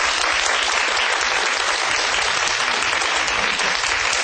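Loud, dense audience applause for a lecturer at the end of a televised lecture on cosmology, a continuous even roar of many hands clapping throughout, with no speech.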